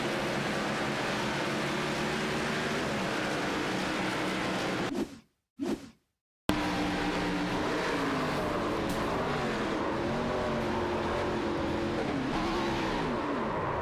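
Race car engines drone and whoosh in a rallycross racing video game at Daytona, a steady roar that cuts out briefly to near silence midway, then returns with shifting engine pitch and no talk.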